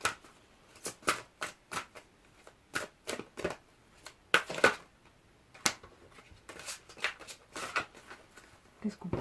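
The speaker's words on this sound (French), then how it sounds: "je vais vous tirer une carte de l'oracle des contes de fées" Fairy tale oracle cards being shuffled by hand, a series of quick, crisp riffling bursts repeated in an irregular rhythm, close and clear against a quiet room.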